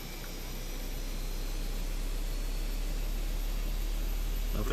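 A Fenix Airbus A320's number two engine spooling up in Microsoft Flight Simulator 2024, a steady broadband roar that holds loud and even for several seconds with a faint low rumble beneath.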